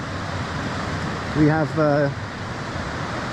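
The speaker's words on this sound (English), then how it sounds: "There's a lot of water in the river." A river swollen into flood after weeks of heavy rain on the Elidir Trail, its water rushing in a steady, close broadband roar that runs throughout, briefly overlapped by someone speaking.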